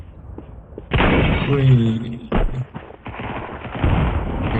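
Gunfire in the video game Counter-Strike 2, a few sharp close shots and bursts amid footsteps and thumps, with a player talking over the action.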